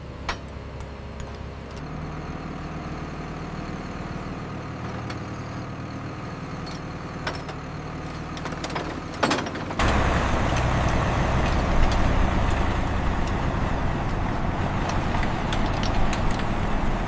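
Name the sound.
CAT 320D excavator engine being lowered off trailer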